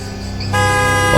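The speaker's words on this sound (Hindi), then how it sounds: "हॉर्न भी वैसे ही रुक रुक के एकदम से" Car horn blaring steadily at close range in a dark roadside scene, loud and continuous with a shift in tone midway.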